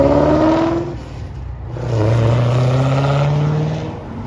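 A Chevrolet C8 Corvette accelerating hard on a canyon road, its engine note rising loud and close, easing briefly, then climbing again in a long sustained pull.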